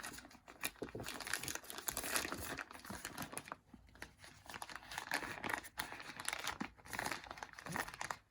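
Crinkling of a small plastic pouch handled during the unboxing of a Laowa 4mm fisheye lens, close and irregular rustles and crackles with brief pauses, no voice.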